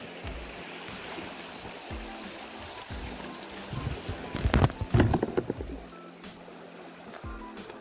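Blue Duck Creek on the Heaphy Track pours as a steady rushing wash, with a cluster of louder splashy or clattering sounds midway, probably footsteps, and no talking.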